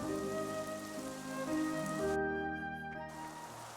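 Rain in Xenoblade Chronicles 3 patters steadily beneath sustained musical tones, with the soft hiss of falling drops continuing throughout.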